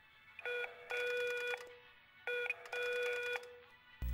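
An old-fashioned office telephone rings in the 1963 film From Russia With Love, with two clear double-burst trills separated by a short pause, loud and close with no talk.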